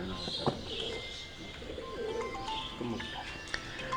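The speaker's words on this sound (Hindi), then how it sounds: "ये जो कबूतर आप देख रहे हैं ये भट्ट साहब की ब्रीडिंग सेटअप में टेडी ब्रीड का कबूतर" A teddy breed pigeon in a breeding loft coos softly a few times amid faint chirps from other birds and light background noise.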